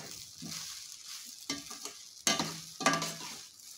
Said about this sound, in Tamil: நான் அடுப்புலயே வெச்சு தான் பரட்டறேன்